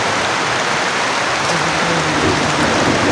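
Dense, loud rain pours down continuously, a steady heavy hiss with no pauses.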